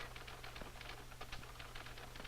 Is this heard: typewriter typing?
yes